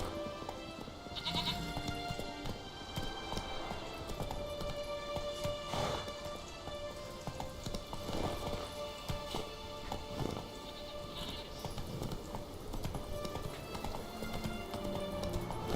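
Hooves of Geralt's horse Roach in The Witcher 3 beat a steady clip-clop rhythm across a busy game soundscape, with animal bleats mixed in, moderately loud and continuous.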